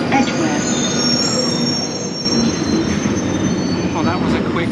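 London Underground Northern Line train arriving, loud and close, its wheels squealing in shrill sustained tones over a rumbling roar, with a muffled announcement-like voice in the mix.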